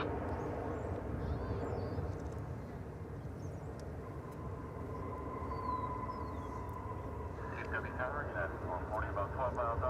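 A jet airliner takes off at Dallas/Fort Worth Airport, a steady, far-off roar of engines that holds throughout and swells slightly toward the end, with a voice talking over it.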